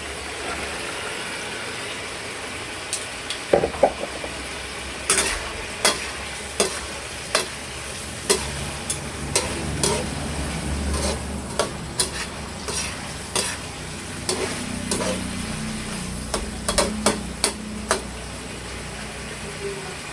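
Tofu frying in a pan, a steady sizzle broken by repeated sharp clacks of stirring and scraping throughout, close and fairly loud.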